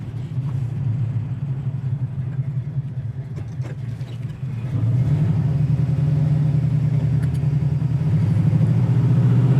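A 1967 Pontiac Firebird with a 400 engine driving, a deep steady rumble heard from inside the car that swells louder about halfway through as the engine works harder, with no talking.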